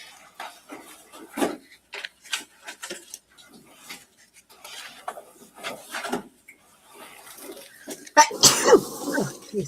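One loud, abrupt sneeze bursts out near the end in a courtroom, preceded by scattered soft rustles and small noises.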